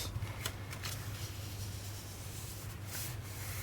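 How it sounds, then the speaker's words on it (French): Paper album page being folded and creased by hand, a steady close rubbing and scraping of paper with a few sharper crisp rustles, no talking. "Alors là on va plier, on va déjà préparer la page, plier et biseauter."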